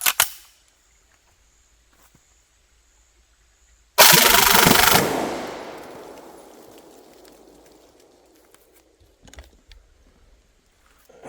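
An IMI Micro Uzi fires one fast full-auto burst of about a second at an outdoor range, loud and rapid, followed by a long fading echo and then near silence.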